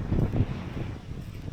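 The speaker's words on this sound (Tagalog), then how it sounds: "Lakas ng hangin." Strong wind blowing across open ground on Sabtang Island, Batanes, a gusty rumbling buffet on the microphone that swells early and then settles into a steadier rush.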